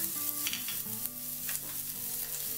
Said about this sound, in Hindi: अब इसमें प्याज डाल के इनको ट्रांसपेरेंट होने तक पका लेंगे।